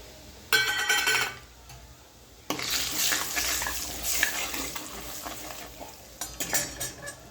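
Dry spices hit hot oil in a kadhai with a sudden loud sizzle that crackles on steadily, a short burst of frying first, then continuous spattering with some stirring.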